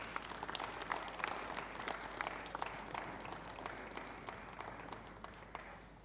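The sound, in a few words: audience clapping at conference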